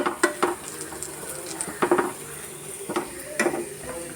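Small onions browning in a pan, heard as soft frying under scattered clinks and scrapes of a spoon stirring against the cookware, with a few louder clatters spaced through the stretch.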